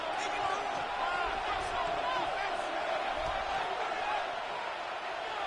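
Stadium crowd at an American football game between the Cowboys and Vikings, a broad continuous roar of many voices with scattered whoops, steady and diffuse throughout.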